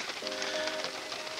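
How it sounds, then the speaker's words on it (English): Heavy rain pours down outdoors as a dense, steady hiss of drops with no breaks, fairly faint and even throughout. "the rain came down, started pouring"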